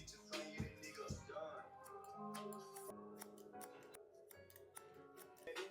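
Scissors snip the tips of hair during a high taper haircut, a quiet, close series of crisp metallic clicks in an irregular rhythm.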